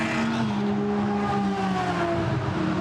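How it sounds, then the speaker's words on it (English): A V12 race car engine howls loudly and continuously at the Monza circuit during GT endurance qualifying, its high-pitched tone rising and falling as it revs. "The howl of the V12 engine."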